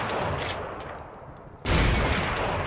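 An anti-tank rifle fires in Forgotten Hope 2, a loud booming shot whose rumble decays over a second and a half before a second sharp blast hits and rings on, close and without talk.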